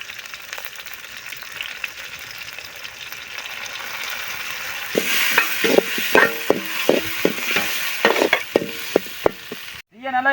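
Two tomatoes dropped into a pan of frying onions and garlic for a village-style chicken dish, a steady low sizzle turning into louder crackling with sharp scraping stirs of a spoon against the pan.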